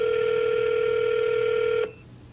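A telephone ringback tone while calling an apartment complex's leasing office, one steady loud electronic ring held for nearly two seconds before cutting off abruptly into quiet line noise.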